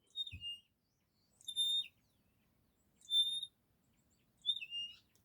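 A rosy-patched bushshrike calls in Kenyan bush, giving four separate high, clear whistled phrases spaced about a second apart, faint and fairly distant against a quiet background with a soft low thump at the start.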